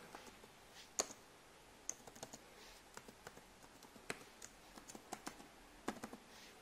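Keys on a computer keyboard clatter in uneven, quiet bursts of sharp clicks as a username and password are entered into a car head-unit map app login, close by with no one talking.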